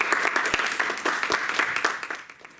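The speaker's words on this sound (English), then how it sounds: "A great applause for her." Audience applause for a student contestant at a primary school public speaking contest: dense, steady clapping from a room of listeners that fades slightly toward the end.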